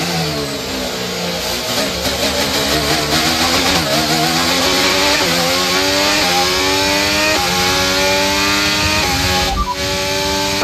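An F1 car in F1 23 accelerating out of the pits, its loud high-revving engine climbing in pitch through a quick series of upshifts and staying close and continuous from start to finish.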